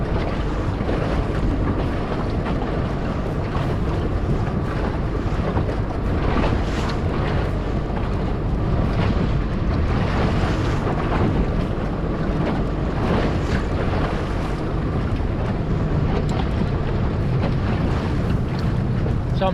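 A small boat trolling slowly on open sea, its steady low motor drone blended with constant wind buffeting and washing waves, loud and unbroken throughout with no talk.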